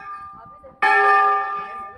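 A temple bell at Chitai Golu Devta Temple in Almora, Uttarakhand, is struck once, loud and close, ringing out with a long shimmering decay after some faint chatter.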